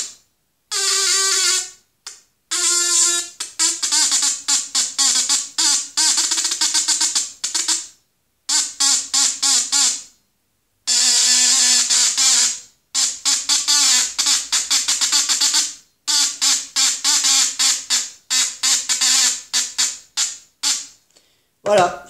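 A homemade noisemaker built from a hair dryer motor, a square battery and a small new speaker blares loud, harsh horn-like squawking tones in choppy on-off bursts with brief gaps.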